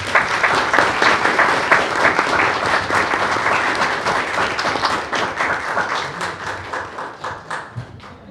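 A school board meeting audience gives a loud round of applause that thins over time into fewer, distinct individual claps toward the end, with no one talking.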